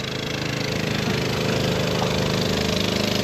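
Longtail boat engine built from a lawn mower or brush cutter engine, a loud, continuous buzzing drone with a rapid pulsing beat, running steadily on the water near Koh Rong, Cambodia, with no voices.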